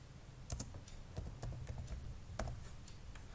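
Computer keyboard typing text into CNC milling software, a quick irregular run of light clicking keystrokes, close and fairly quiet, with no voices.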